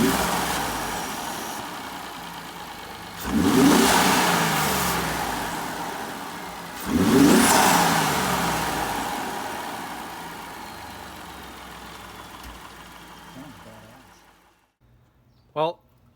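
A 2017 Ford F150 engine fitted with a K&N Series 63 cold air intake, revved twice in loud bursts that decay back to a steady idle, before the clip ends in near silence with a brief click.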